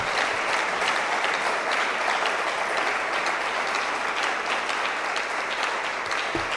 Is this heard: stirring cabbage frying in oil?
no